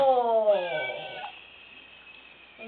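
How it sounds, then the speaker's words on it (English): A cat being bathed gives a drawn-out, wavering meow up close, followed by a short second cry after a pause. "I just don't like her meowing."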